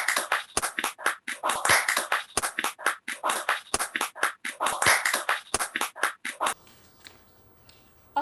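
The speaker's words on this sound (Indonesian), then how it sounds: "boleh minta tepuk tangannya buat teman-teman influencer dan media?" A crowd applauds influencers and media at a virtual press conference in Indonesia, steady hand clapping in bursts for about six seconds before it fades into quiet room tone.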